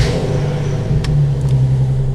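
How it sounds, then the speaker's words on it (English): A Nissan 370Z Nismo with AAM resonated short-tail exhaust idles loudly right after a cold start, a steady deep droning engine note close to the microphone with brief higher whines. "we will do a cold start."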